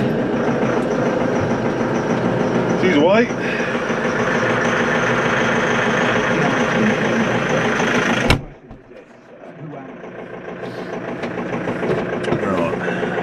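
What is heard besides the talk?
tractor engine idling with straw chopper on dairy farm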